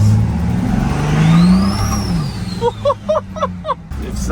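A compound-turbo 6.7 Cummins diesel truck accelerates hard from up close, its engine climbing in pitch with a rising turbo whine, then easing off between gear changes.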